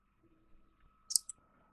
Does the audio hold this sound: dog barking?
no